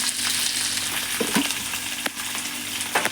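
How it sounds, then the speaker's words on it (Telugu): Onions, green chillies, curry leaves, mint and tempering seeds fry in hot oil for a Telugu-style brinjal pulusu, giving a dense, steady sizzle close up with a couple of brief stirring scrapes and no voices. "అలా మిక్స్ చేస్తూ ఉంటే అవి నూనె చాలా మంచిగా పట్టి ఇవి ఎర్రగా వేగుతాయి"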